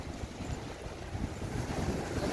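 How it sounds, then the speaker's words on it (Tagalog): Large ocean waves rolling onto a black sand beach, a steady broadband wash with wind buffeting the microphone, continuous and fairly loud with no voices. "Ang lalaki ng alon."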